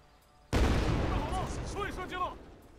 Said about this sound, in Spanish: Vamos a meter aquí una granada.